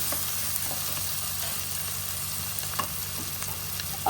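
Onions frying in a pan for matar paneer bhurji, a steady, fairly loud sizzle running without a break, with a few faint clicks of stirring on top.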